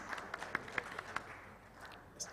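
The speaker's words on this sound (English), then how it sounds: "A round of applause for him, please." Brief, sparse applause from a small audience welcoming a speaker at a live-streamed event, a handful of scattered claps over room noise that die away after about a second.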